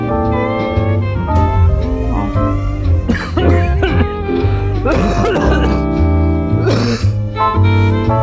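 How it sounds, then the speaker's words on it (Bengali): A sick man with a cold and fever coughs in a few rough bursts, spaced several seconds apart, beneath a loud, steady music bed. "ঠান্ডা জ্বর, সারাদিন খালি কাশি দেয়"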